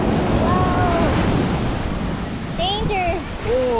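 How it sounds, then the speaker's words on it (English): Big ocean waves break on a shore on Maui, Hawaii, a loud continuous rushing surf with wind buffeting the microphone, while people talk briefly over it. "because the waves are so big"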